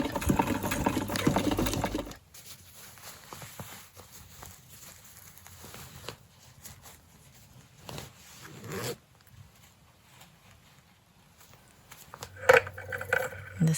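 A hand-cranked sewing machine stitches the waistband of an ecoprinted cotton mini skirt, clattering steadily at first, then softer intermittent stitching and a closing burst of mechanical rattle.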